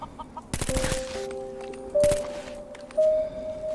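Chickens cluck in Fallout 4, with loud clucks and squawks over faint game ambience, alongside a few sharp bursts of action noise.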